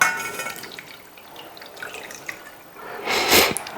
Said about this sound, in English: We're going to add 300 milligrams of water.